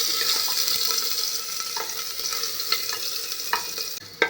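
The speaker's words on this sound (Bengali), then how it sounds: "আদা কুচি আর দেব রসুন কুচি। দিয়ে আবার নেড়ে দেব।" Chopped ginger and garlic frying in a pan, a continuous close sizzle punctuated by several scraping stirs, with a brief clatter at the end and no talking.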